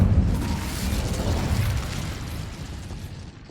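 Fiery spell blast from the Incendio charm in Hogwarts Legacy, a loud booming burst up front that rumbles on and slowly fades over a few seconds, with no talking.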